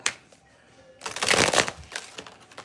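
A deck of tarot cards being shuffled close by: a few faint taps, then a loud riffling burst of rapid flutters, followed by softer trailing riffles, with no talk.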